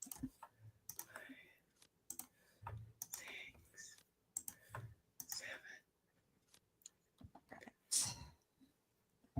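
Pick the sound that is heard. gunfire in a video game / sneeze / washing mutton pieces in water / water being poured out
sneeze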